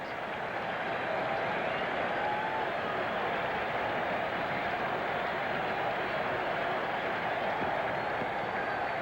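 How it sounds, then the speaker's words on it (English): A large baseball stadium crowd, sparse late in a 1984 Reds–Mets game, rises and cheers on a two-strike count, a steady distant roar of applause and voices throughout. "And with a 2-strike count, the remnant of this capacity crowd comes to its feet."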